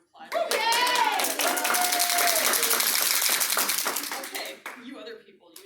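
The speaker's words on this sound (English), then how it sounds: "Let's give Jade a round of applause." A small audience claps for a woman named Jade, a dense burst of hand claps under excited voices and cheering that tapers off after several seconds.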